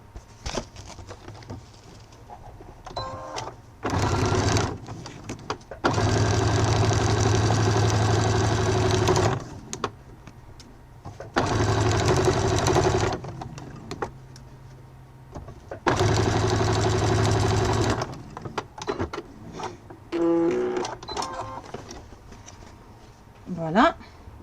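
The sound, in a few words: sewing machine stitching a fold of a fabric wallet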